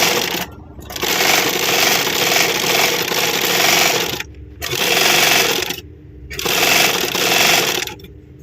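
Zigzag sewing machine running after oiling, steady whirring motor and needle chatter in three long bursts separated by short pauses, close and loud with no talking.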